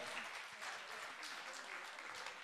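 Theatre audience applauding at a song-and-poetry evening in Piacenza, a dense steady patter of many hands filling the hall, faint and distant throughout.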